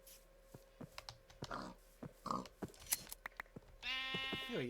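Near the end a sheep in the Minecraft modpack Enigmatica 9 gives one loud, close bleat. Soft scattered clicks like typing on a keyboard come before it.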